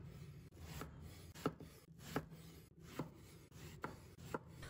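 Knife chopping through the inner pulp of a thick-fleshed, dark-skinned winter melon on a board, with crisp strokes repeating at a steady pace, close and moderately loud.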